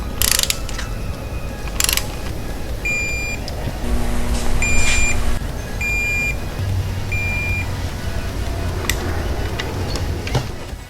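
A hand ratchet tightens spark plugs on a Fiat 500 Abarth during servicing, giving bursts of clicking ratchet strokes and metallic ticks close by, alongside a few short electronic beeps.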